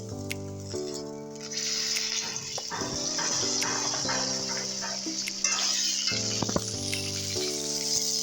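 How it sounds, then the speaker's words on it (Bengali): Potatoes and oil frying in a kadai for a Bengali prawn-and-potato curry, a steady close sizzle that swells after the first second and runs continuously, with tonal hum and a few clinks over it. "কড়াতে আলুটা দিয়ে দিয়েছি, এর উপর দিয়ে তেল দিয়ে দেব"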